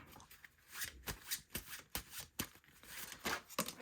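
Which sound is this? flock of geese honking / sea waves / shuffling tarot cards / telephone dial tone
shuffling tarot cards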